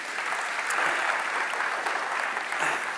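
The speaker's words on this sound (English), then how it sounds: "give Harrison a round of applause, please." Audience applause at a tech talk on LLM apps, a steady, even roar of many hands clapping, moderately distant and continuous with no break.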